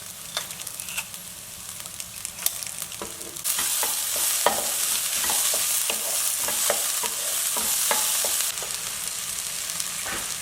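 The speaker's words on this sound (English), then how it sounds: "I'm now going to crush in the garlic after 7 to 8 minutes of browning the vegetables." Garlic crushed into browned vegetables frying in a pan, a steady sizzle that suddenly grows louder midway, with repeated stirring clicks and scrapes up close, no talking.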